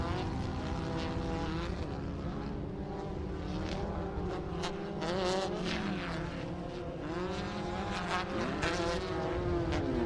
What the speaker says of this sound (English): RPM sounds identical to every car as they go by.